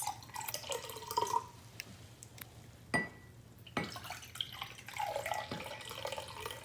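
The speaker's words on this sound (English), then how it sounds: "take your filtered cabbage solution and pour it into several different" Filtered cabbage solution trickles and drips into several glasses in a quiet room, soft liquid splashes with a few sharp clinks and taps of glass spaced across several seconds.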